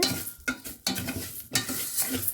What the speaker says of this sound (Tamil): அதோட சவரிசியையும் போட்டு நெய்யில் கொஞ்சம் நேரம் வதக்குறேன்